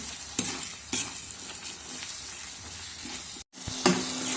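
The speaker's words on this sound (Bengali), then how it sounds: "এখন প্রথমে মশলাটাকে কষিয়ে নিব বাটা মশলাও দিয়ে দিচ্ছি" Spice paste fries in a pan, a steady sizzle broken by regular scraping strokes of a spoon stirring it, with a brief pause near the end before the sizzling resumes.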